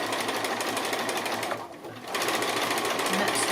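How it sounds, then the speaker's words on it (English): A sewing machine stitches a small coiled fabric bowl made from 2½-inch strips, running in a steady close whir with a brief pause in the middle before it picks up again. "So I'm back here again to sew again"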